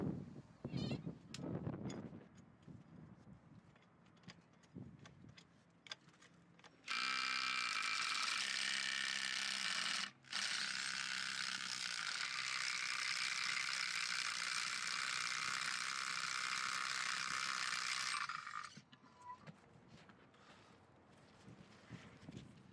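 A tool removes the wheel lug nuts from an old Jeep monster truck. A loud, sustained mechanical buzz runs for about ten seconds, broken by one brief pause, with quieter clicks and shop noise before and after.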